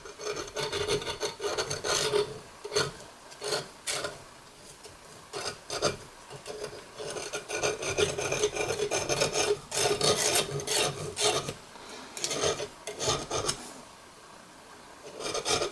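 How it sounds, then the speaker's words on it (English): A hacksaw blade rasps back and forth through foam pads glued to the jaws of a stained glass vise, a long run of steady scraping strokes with brief pauses, close and fairly quiet. "we're going to see if we can cut those off nice and smooth with a hacksaw blade"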